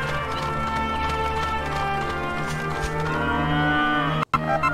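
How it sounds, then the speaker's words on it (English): A cow in the Dragon Quest 8 video game lets out a long, loud, drawn-out moo close by, with a low game music drone underneath and a brief cut near the end. "Let's go say hi to the cow."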